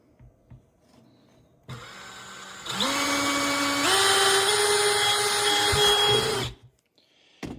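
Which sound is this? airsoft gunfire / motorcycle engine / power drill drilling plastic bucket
power drill drilling plastic bucket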